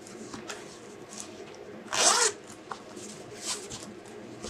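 A zipper pulled once along a pocket on a handmade fabric travel bag, a quick close rasp standing out against quiet room noise.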